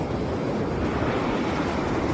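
Ocean surf washes in a steady, continuous roar, broad and even throughout with wind noise blowing across it and no voices.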